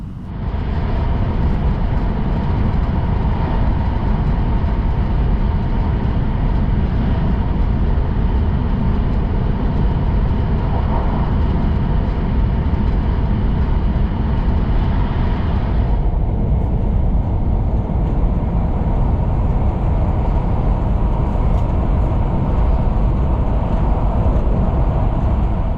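Hokkaido Shinkansen Hayabusa super express running at speed after leaving the tunnel, a steady loud roar of wheels and wind heard from inside the train, continuous throughout with a slight drop in hiss partway.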